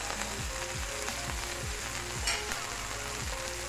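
Cooking oil and a little butter sizzle steadily in a pan while making a homemade chicken burger patty, a dense continuous frying hiss with faint, regularly repeating scraping sweeps underneath.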